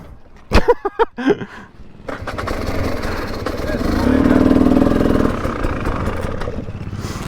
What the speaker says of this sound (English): This is a KTM TPI 300 two-stroke